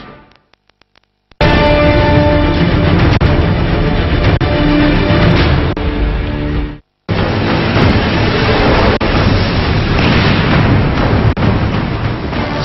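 Heavy gunfire and explosions in an armed clash in West Kalimantan, loud and continuous, with dense bursts and booms and one brief gap.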